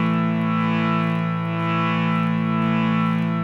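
A harmonium holds a steady, droning chord for an Asatoma Sadgamaya mantra accompaniment, its sustained reedy tone loud and unbroken throughout.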